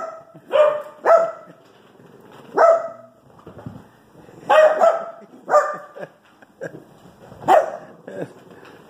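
Sharp, high-pitched puppy barks and yips in irregular bursts, close by, with short pauses between, playful and energetic.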